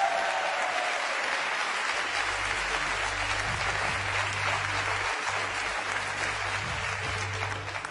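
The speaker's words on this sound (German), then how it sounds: "Ein Applaus für die Freiwilligen." Audience applause for volunteers brought on stage at a German comedy show, a dense steady roar of clapping that fills the whole stretch and tapers slightly at the end.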